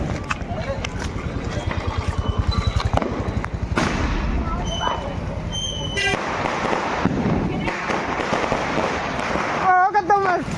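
Rapid crackling bursts and popping Diwali fireworks explode in quick series in Jaipur, followed by whistling sky shots and sharp bangs, with people talking and shouting throughout.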